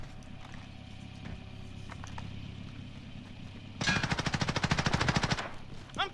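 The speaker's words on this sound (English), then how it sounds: "I'm taking fire." Rapid automatic gunfire in the shooter game Call of Duty: Modern Warfare, a loud sustained burst of evenly spaced shots lasting about a second and a half after quieter ambient game sounds.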